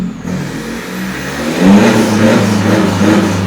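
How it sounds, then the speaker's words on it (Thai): Isuzu X-Series pickup fitted with an electric throttle controller, its engine idling then revving up quickly in a rising, close, mid-pitched roar with no voices. "เร่งปุ๊บนะครับรอบมาเลย ไม่ต้องรอรอบนะครับ"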